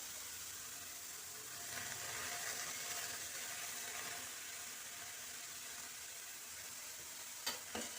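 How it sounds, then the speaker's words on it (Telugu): Tomatoes added to a hot pan of cooking moong dal, giving a steady faint sizzle with soft stirring, and a couple of sharp metallic clicks near the end. "ఇప్పుడు ఈ టమాటోలు వేసేయాలి"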